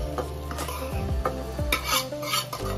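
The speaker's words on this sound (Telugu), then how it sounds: "ఇప్పుడు మనం ఎగ్ దీంట్లో కలుపుకోవాలి." A spoon scrapes and stirs through egg and fried okra in a metal pan, with clinking strokes against the pan and a soft sizzle running underneath.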